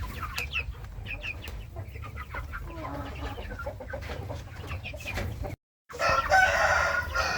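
Free-range village chickens in an avocado orchard, scattered clucks and a rooster crowing nearby, moderately faint over a low background hum, with a brief dropout near the end.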